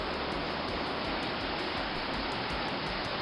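Rough river water rushing in a steady, dense roar, close and continuous with no voices, like turbulent flow churning over a riverbed.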